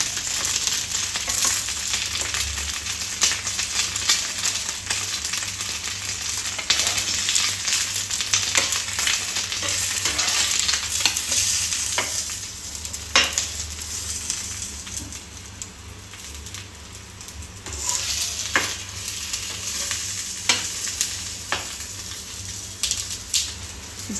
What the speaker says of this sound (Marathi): 2 मिनटं फक्त शॅलो फ्राय करून घ्यायचा.